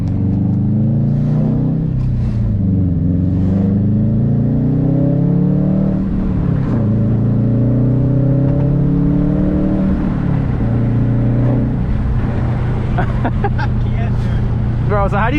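A 2018 Subaru WRX STI with a Stage 1 tune revs and accelerates repeatedly, its pitch climbing and dropping through gear changes, loud and close, with some talking mixed in.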